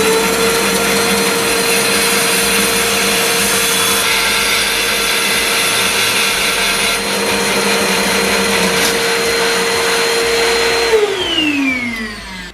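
SIP 14-inch professional bandsaw making a mitred cut with a mitre slide: a loud, steady motor whine with a constant tonal hum and blade noise, the pitch dropping at the end as the saw spins down.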